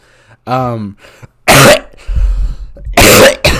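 Two sharp, loud coughs burst out close by, separated by a brief spoken phrase and a short vocal sound.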